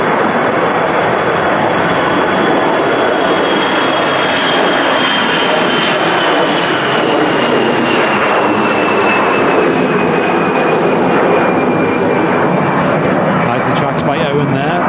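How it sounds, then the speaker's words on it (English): An EasyJet Airbus A320 arriving from Paris Charles de Gaulle at windy Manchester Airport roars loudly and steadily for the whole stretch, a broad jet rumble with a faint whine sliding across it. "This is actually coming in from Paris Charles de Gaulle as well. The EasyJet A320"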